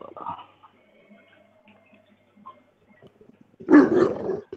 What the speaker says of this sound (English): I heard the dog bark